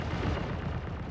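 Gunfire in the video game Star Citizen, a brief dense burst of loud, rumbling shots heard through game audio with no talking.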